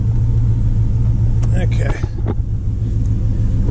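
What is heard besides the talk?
Dodge Ram truck engine rumbling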